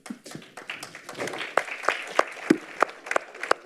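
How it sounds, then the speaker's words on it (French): A small audience at a French discussion event applauds a writer as he takes the floor, with scattered, distinct nearby claps in an uneven rhythm rather than a dense roar, fairly quiet overall. "Attendez de m'avoir écouté avant d'applaudir."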